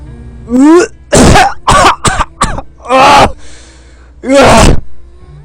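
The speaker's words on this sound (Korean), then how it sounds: "나는 물 밖으로 얼굴을 내놓고 기침을 토해냈다" A person coughs and clears their throat in several sharp, loud bursts with brief gasps between them, close up and without speech.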